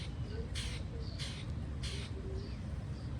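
A pet bird gives several short, harsh caw-like calls spaced about a second apart, fairly faint in a quiet backyard with a low background rumble.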